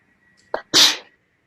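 A single loud, close sneeze: a short sharp intake followed by a forceful burst lasting about half a second, alone in a quiet room during a conversation.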